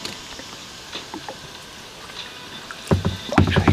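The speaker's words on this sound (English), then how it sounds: "I'm paddling with one hand now." Paddle strokes dip and splash near a kayak or canoe on calm water, with soft dripping and small knocks, growing louder and busier toward the end.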